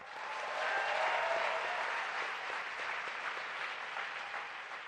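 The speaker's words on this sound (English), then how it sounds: "Let's give them another round of applause." A seated audience applauds speakers on stage at a talk event, giving a steady round of clapping that holds for several seconds and then slowly thins out.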